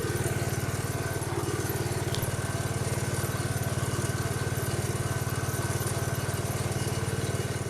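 A Gravely Pro 16 walk-behind tractor with a 16-horsepower engine runs steadily on its own, a loud, even, throbbing idle close by that holds unchanged throughout.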